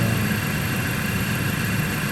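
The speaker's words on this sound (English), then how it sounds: "now that the engine is on" A car engine idles steadily with a low even rumble and a constant hum above it, the air conditioner running with the fan on high, no voices.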